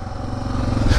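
A Suzuki DR650 motorcycle riding off-road through rough terrain, its engine a loud, continuous close rumble with rattling over the brief moment.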